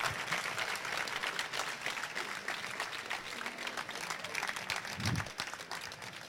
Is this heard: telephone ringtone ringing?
no